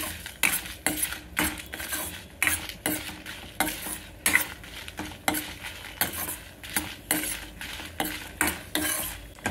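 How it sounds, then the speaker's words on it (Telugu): Dried red chillies fry in oil for curry leaf podi, a soft sizzle under repeated metal spoon scrapes and clinks against the pan in an uneven rhythm. "మిర్చి కూడా బాగా నల్లగా అయిపోకుండా కొద్దిగా డార్క్ కలర్ వచ్చే వరకు వేయించుకోవాలండి."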